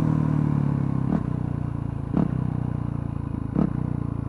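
A motorcycle held at a steady engine drone makes three evenly spaced, brief clunking blips as it downshifts without the clutch, each a short jolt in the running engine note.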